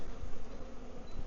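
Steady, dense droning hum of many honeybees in an opened hive during an inspection, continuous and close with no break.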